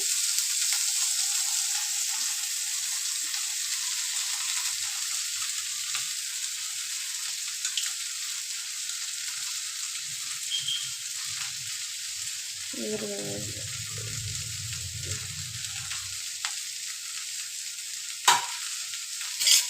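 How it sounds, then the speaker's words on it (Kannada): Onion, garlic and tomato frying in a pan for sambar: a steady close hiss and sizzle throughout, with occasional scrapes and a few brief clatters. "ಅದನ್ನೆಲ್ಲ ಹಾಕ್ಕೊಂಡು ಸ್ವಲ್ಪ ಅದನ್ನು ಫ್ರೈ ಮಾಡ್ಕೊಳ್ತೀನಿ"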